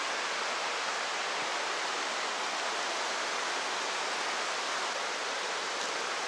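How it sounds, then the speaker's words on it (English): Glacier-fed Sol Duc River in an Olympic National Park rainforest rushes in a steady, loud, unbroken roar of flowing water, with no voices. "Yeah, another glacier-fed river."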